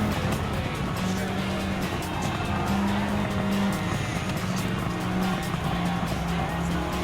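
A 1997-spec Toyota Supra GT500 race car drives in Gran Turismo 7, its engine droning steadily with a tonal whine and tire noise through the S-turns, while someone talks over it.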